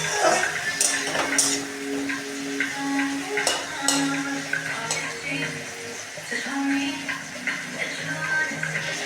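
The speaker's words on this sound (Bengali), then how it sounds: "টমেটোটাকে আমরা পেঁয়াজের মতন ভালো করে ভেজে নেব তেলের সঙ্গে" Chopped tomato frying in hot oil in a pan, a soft continuous sizzle broken by scraping stirs and clinks of a utensil, with a voice talking over it.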